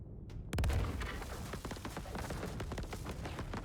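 Grenade blasts in the Star Citizen video game, a heavy boom with a deep low thump, then a dense, rumbling run of further bursts and crackling impacts close by, with no talk.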